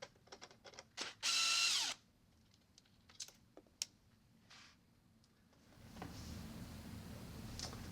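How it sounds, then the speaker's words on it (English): Power driver backing out the piston guide screw from a WaterSoft Isobar II water softener control valve, a loud one-second whir followed by scattered small clicks and handling taps, then a steady hiss of background noise. "Next, we'll remove the piston guide screw and washer."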